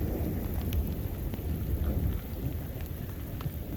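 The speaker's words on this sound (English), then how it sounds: "Can you still hear the rumbling thunder?" Heavy rain pours steadily during a big thunderstorm while low thunder rumbles continuously underneath, a dense, close wash of sound with no voices.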